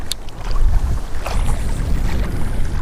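Strong gusting wind buffets the microphone while someone fishes for bass from a small boat, a loud, continuous low roar with brief rattles and splashy bursts, with no voices.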